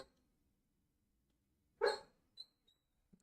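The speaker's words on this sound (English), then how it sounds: "That's my dog." A dog gives one loud, sharp bark close by, followed by a couple of faint, short yips or whimpers in an otherwise quiet room.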